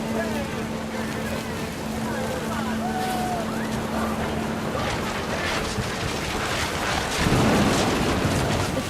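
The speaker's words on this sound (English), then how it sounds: "Thunder sounded much too close and full of angry power." Thunder rumbles beneath steady heavy rain in the video game What Remains of Edith Finch, a dense continuous wash with a louder low roll swelling near the end.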